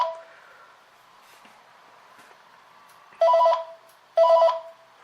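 An old thrift-store telephone ringing through a distorted speaker, two short buzzy ring bursts about a second apart after a quiet stretch, loud and harsh.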